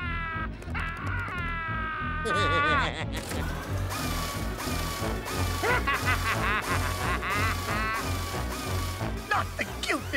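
A cartoon duck quacks over and over in a raucous, rapid string of harsh squawks, loud and close, layered over busy music and clattering effects in a noisy animated scene.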